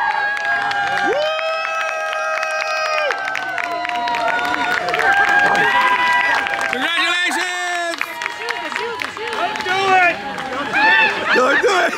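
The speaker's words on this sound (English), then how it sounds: "They're clapping." A crowd applauding and cheering after a wedding ceremony at Epcot, outdoors amid park chatter, with people talking close by over the clapping.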